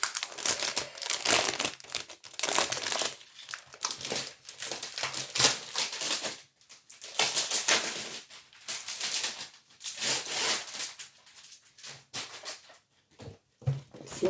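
A hard plastic pouch is unfolded and opened up close, giving a continuous crisp crinkling and crackling that comes in bursts with brief pauses between handling movements.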